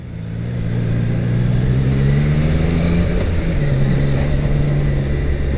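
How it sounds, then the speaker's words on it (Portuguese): A Triumph Tiger Sport 660 three-cylinder motorcycle engine revs up from idle and holds a rising, throaty drone, close and loud throughout. "tu ouve o ronco da moto e dá vontade de acelerar"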